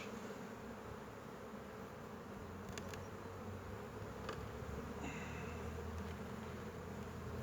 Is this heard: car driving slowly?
no